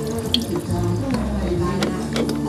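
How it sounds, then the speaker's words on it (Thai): Water from a tap pours and splashes while an Isuzu engine's intake pipe, caked with heavy grime after 530,000 km, is washed out, a continuous close rushing flow with small irregular spatters throughout. "ล้างท่อไอดีให้สะอาด"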